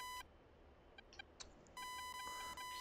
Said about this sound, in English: Most of the beeps are RWR, like, just slight occasional ones, like, that's just RWR search ping for radar.